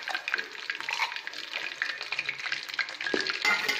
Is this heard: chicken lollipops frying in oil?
yes